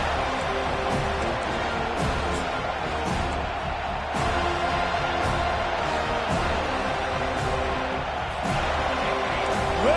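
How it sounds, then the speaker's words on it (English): A stadium crowd in the College Football 25 video game roars steadily and loudly throughout, a dense continuous wall of noise with occasional swells and thumps. "Listen to this crowd just shaking the girders of this place, trying to help their defense."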